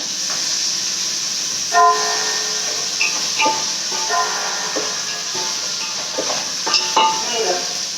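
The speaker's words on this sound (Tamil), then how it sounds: "இப்போ வந்து இஞ்சி பூண்டு பேஸ்ட் போட்டுக்கலாங்க" Ginger garlic paste sizzles in hot oil for paneer biryani, a steady frying hiss with occasional scraping knocks of a stirring spoon against the pan.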